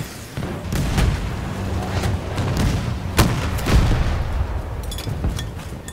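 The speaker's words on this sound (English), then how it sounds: "Make sure they detonate." Explosive charges detonating in the video game Battlefield 2042, a dense barrage of heavy booms and sharp blasts layered over rumbling battle noise, with a few standout cracks rising above the steady din.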